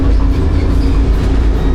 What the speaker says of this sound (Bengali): মজার আছে ব্যাপারটা, দার্জিলিংয়ে বসে টয় ট্রেন